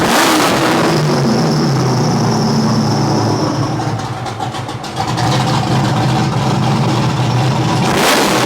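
LS-swapped BMW E46 with a ZF five-speed gearbox revving hard on a dyno, a loud, sustained engine roar that holds high, dips briefly midway, then climbs again before cutting off near the end.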